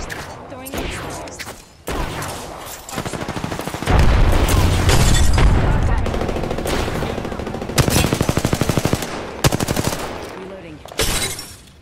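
Close-range firefight in Apex Legends: dense, loud, rapid automatic gunfire in long bursts with impact crackles. Talk is heard over the shooting.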